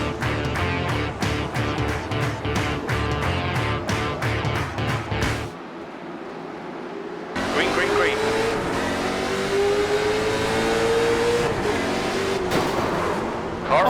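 Late model stock cars roar off the start of a CARS Late Model Tour race at Five Flags Speedway short track, a dense pack of engines rising and revving loudly, briefly dropping out mid-clip before resuming with a rising engine whine under commentary.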